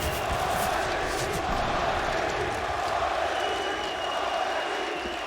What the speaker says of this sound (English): a rousing chant from the crowd